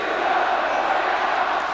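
Fans at a wrestling show in Sydney chant at Disco Inferno, a dense, continuous wall of crowd voices, loud and unbroken throughout.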